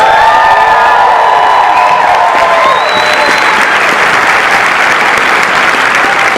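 Loud, dense applause and cheering from a crowd at Disneyland for a band, with whoops and shouts rising over the clapping and holding steady throughout.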